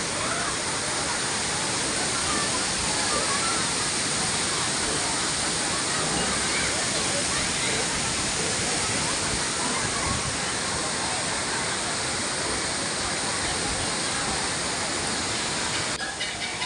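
The Thirparappu waterfall in Kanyakumari roars as a dense, steady rush of falling water, loud and close throughout, with no breaks.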